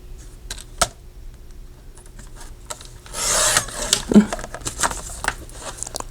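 A craft knife or blade cuts a board offcut to size for a handmade spring folio, a dry rasping scrape swelling loudly midway among scattered small taps and clicks, close and without talk.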